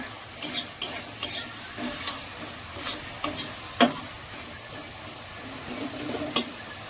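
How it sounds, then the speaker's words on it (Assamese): Masala with tomatoes and a little water frying in a pan with a soft sizzle, punctuated by frequent light scrapes and taps of a spoon stirring, near and moderately quiet. "মই ইয়াত অলপমান পানী দি এতিয়া মছলাটো ভালকৈ ভাজি ল'ম"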